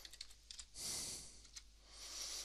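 Keys clack on a computer keyboard as a short name is typed in, a quick irregular burst of taps followed by a pause and a few more strokes, heard close and alone with no talk.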